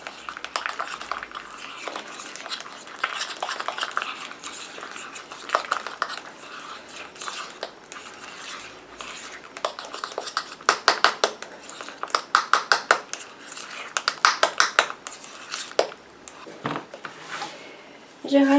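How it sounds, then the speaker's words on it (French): A homemade oat milk hair conditioner with Cosgard preservative is stirred in a small container, giving a series of quick clicking, scraping taps that come in irregular bursts, fairly close and crisp. "Toujours bien mélanger le Cosgard."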